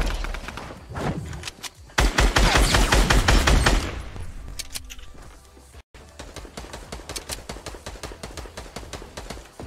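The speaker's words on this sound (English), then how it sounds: "They're getting shot from these guys underneath." Bursts of gunfire from a Fortnite firefight, with rapid clustered shots, a loud dense volley in the middle and steady repeated cracks continuing after, with no talking.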